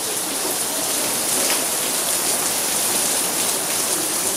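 Steady, dense rainfall hissing continuously, close and fairly loud, with no breaks.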